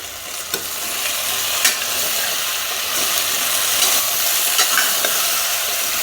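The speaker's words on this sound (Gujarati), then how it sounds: "દૂધી બટેટાને ઘી સાથે સરસ સાંતળી લઈશું." Bottle gourd and potato pieces sauté in ghee, giving a steady close sizzle and hiss with occasional scraping stirs of a spoon against the pan, no talk.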